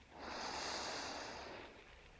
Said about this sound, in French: Et peu à peu, tu expires, tu vides ce ventre.